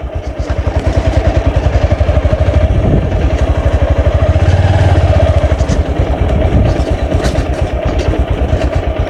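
A motorbike engine chugs in a fast, steady, close putter on a quiet village road in Jaipur village, Dhobaura, Mymensingh, loud and throbbing throughout, swelling slightly mid-way with no talk over it.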